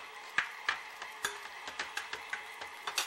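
Shrimp and scallops cooking in a pan, with a quick series of clicks and scrapes from a utensil against the pan at a fairly regular pace over a soft background, fairly close.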